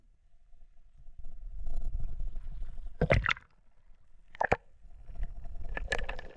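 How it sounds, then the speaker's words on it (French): Two sharp splashes break through a low, rushing water noise as spearfishing divers jump from a boat into the sea one after another, with more churning water afterward. "Allons-y, on saute à l'eau."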